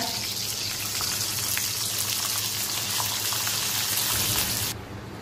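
Mustard seeds and curry leaves fry in mustard oil, giving a loud, steady sizzling hiss with crackle that runs unbroken and then drops off sharply near the end.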